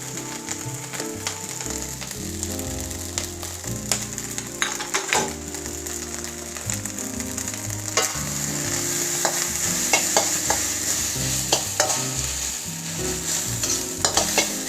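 Shrimp fried rice sizzles and fries in a hot wok while a spatula scrapes and stirs it with repeated clanking strokes, steady and close.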